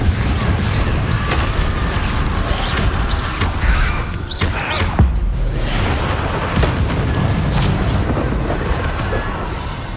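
Blasting spells such as Confringo are cast in the Hogwarts Legacy video game, producing repeated booming impacts and crackling bursts over a dense, busy background of combat noise.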